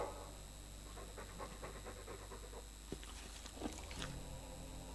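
A Mabari war dog in the video game Dragon Age II pants quietly in a quick, steady rhythm, with a few soft breaths and snorts trailing off afterward.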